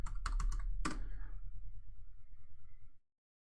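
Fingers type on a computer keyboard while a password is entered on a Raspberry Pi, giving a burst of close, sharp key clicks and then a quieter stretch of steady background hum before the sound stops.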